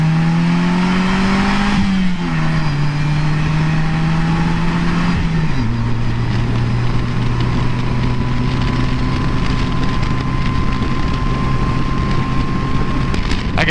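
A 2017 Polaris Slingshot SLR three-wheeler accelerates hard, its engine tone climbing through gear shifts and then holding a steady drone under heavy wind rush, loud and close throughout.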